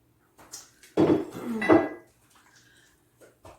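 Cornbread dressing is stirred in a pan, a few brief clinks and scrapes of a utensil against the pan, then a short burst of louder scraping before it goes quiet.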